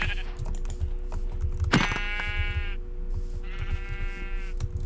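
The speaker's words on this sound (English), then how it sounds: "How convenient how there's 3 sheep in 1 hurdle." Sheep bleating on a farm, two drawn-out bleats standing out clearly over a steady low rumble of background noise.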